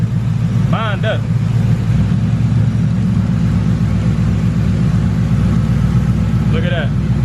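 A car idling steadily with its mass airflow sensor unplugged, a close, even low rumble running throughout, while a person talks briefly twice.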